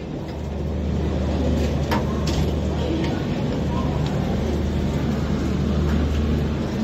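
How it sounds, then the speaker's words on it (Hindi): Passenger train pulling out of Pune railway station, a steady loud rumble of wheels and engine throughout with faint station noise and no clear speech. "तो चलिए finally train Pune railway station से छूट गई"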